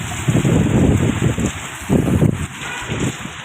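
Heavy rain pours down in Medina during Ramadan, a dense steady hiss that surges in waves with gusty wind buffeting the microphone, and no voices.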